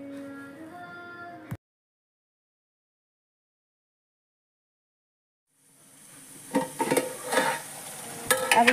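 Kanda bhaji greens stirred in a pan over the heat, a short burst of cooking noise before a long silent gap, then scraping strokes and soft sizzling that grow busier toward the end.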